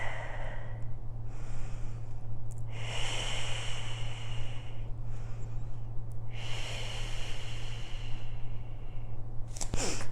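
Slow, audible breathing during a Pilates glute stretch, several long hissy inhales and exhales repeating over a steady low background hum.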